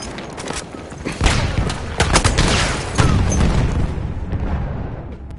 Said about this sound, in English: Throw the